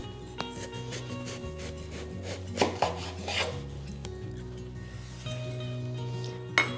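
A knife slices down the center of a cantaloupe during a private chef's ranch brunch, giving a few close, crisp cutting knocks and scrapes over steady background music.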